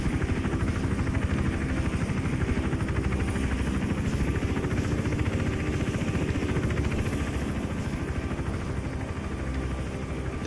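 Helicopter in the video game Hitman Absolution, its rotor thumping loud and continuous as it flies overhead, a dense, steady drone that fills the whole stretch with no voices.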